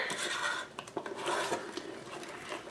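A spoon stirs a pot that has just come to a boil, making continuous close scraping and clinking against the metal, with a few sharper knocks, moderately quiet and without speech.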